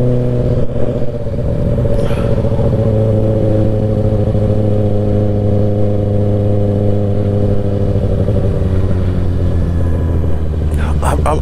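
A 2024 Kawasaki ZX6R 600cc motorcycle being broken in on a night ride, its engine droning loud and close with a steady, slightly rising hum and brief revving swells.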